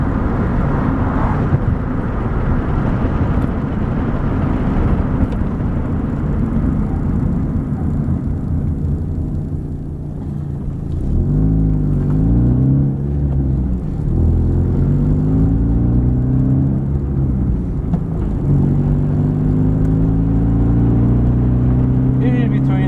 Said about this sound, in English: Usually between second and third gear you get the most throatiness out of the car.